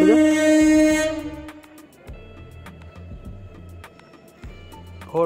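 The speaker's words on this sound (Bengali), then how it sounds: "ট্রেন আসছে" A train passes close by, opening with a loud sustained horn blast that fades into rhythmic clattering of wheels over rail joints, repeating several times.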